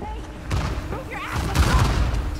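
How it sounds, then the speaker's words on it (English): Explosions in the video game Uncharted 4, a burst of booming blasts and crackling gunfire-like bangs with a louder cluster of impacts midway, mixed with excited game voices. "Oh my God, explosions right on him."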